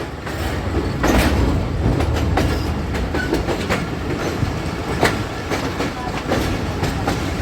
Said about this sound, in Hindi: लाइन पे लाइन चेंज कर रही है।